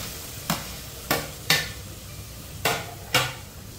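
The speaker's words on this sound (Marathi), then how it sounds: "आता आमी घालया हितून टोमॅटो आनी मातशे तळसून घेवया" Tomatoes frying in a pan over a steady low sizzle, with five sharp scraping strokes of a spatula stirring them at irregular intervals, close and distinct, no talking.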